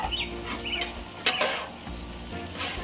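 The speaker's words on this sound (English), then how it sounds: "Give this a nice toss." Shrimp and okra sizzle on a Cuisinart 360 flat top griddle while being tossed, giving a crackling fry with scraping stirs and clatter at close range.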